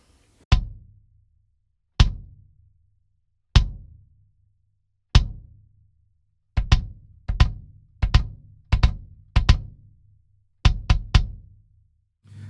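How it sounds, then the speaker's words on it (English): A lightly muffled bass drum is struck alone, first in single hits spaced about a second and a half apart, then in quicker pairs and triplets, each a deep, close thump with a short decay. "just that little bit of muffling, which is really lightweight as a matter of fact too, makes the drum sound like this."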